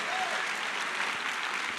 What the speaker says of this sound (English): I want all of you to clap for yourselves